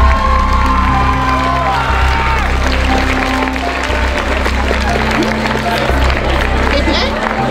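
A school crowd at a charity walk event breaks into loud, sustained applause mixed with cheers and whoops, a dense continuous roar close by with shouting children throughout.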